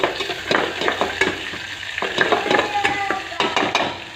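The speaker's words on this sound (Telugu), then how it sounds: "ఇట్లా సిమ్లోనే వేయించుకోవాలి." Onions frying on a low flame for Telugu perugu pachadi, a steady close sizzle broken by repeated rhythmic stirring scrapes and clicks from a spatula against the pan.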